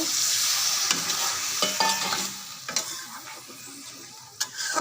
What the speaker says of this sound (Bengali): আর একটু নাড়াচাড়া দিয়ে দিব যাতে লেগে না যায়